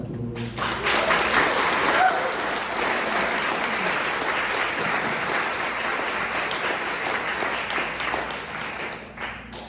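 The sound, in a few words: audience applause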